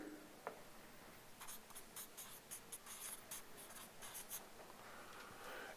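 Pens scratching on paper as an audience takes notes during a talk, many faint overlapping strokes in a quiet room.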